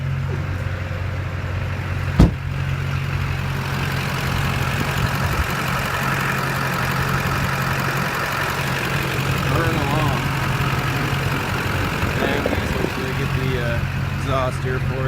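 A lifted 2002 GMC Sierra 2500 with a Duramax diesel engine idles with a steady low rumble, one sharp knock early on, and a person talking over it.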